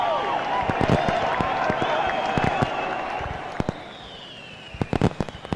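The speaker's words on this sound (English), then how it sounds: "Fireworks." Fireworks bursting in a baseball video game after a home run, a string of sharp pops and crackles with whistling trails, over a steady crowd roar.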